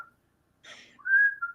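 A woman whistles close by: a brief, clear tonal whistle that rises into a sustained note, preceded by a short breathy rustle and heard alone.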